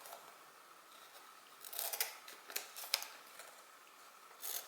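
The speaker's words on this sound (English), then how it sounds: "So with your scissors, you're going to cut down here towards the corner of the box." Scissors cut into a box toward its corner during a crafting session, giving several short, crisp snips and rustles at close range over quiet room tone.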